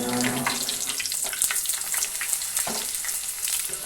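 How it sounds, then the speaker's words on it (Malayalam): Pieces of coconut rice fry in hot oil in small batches, giving a steady, close crackling sizzle with occasional louder pops and no talking. "ഇത് നമുക്ക് കുറേശ്ശെ കുറേശ്ശെ ആക്കി പൊരിച്ചെടുക്കുകയും ചെയ്യാം"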